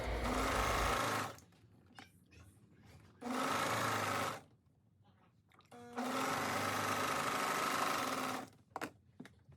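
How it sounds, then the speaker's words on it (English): Sewing machine stitching the hem around a bell-bottom pant leg, heard as three loud, steady bursts of fast mechanical whirring separated by quiet pauses with small handling clicks. "I'm just going to go ahead and sew that around on both pant legs"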